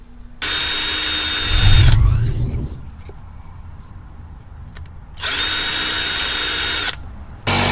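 A power drill whirs in two loud, sustained bursts while hinges are attached during a van build, with a quieter stretch of handling and scraping between them.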